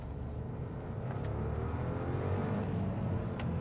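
A 2018 Audi A3 1.0 TFSI S line with its one-litre three-cylinder engine pulling under acceleration on a rural road, a steady, fairly loud engine drone with a slight rise in pitch.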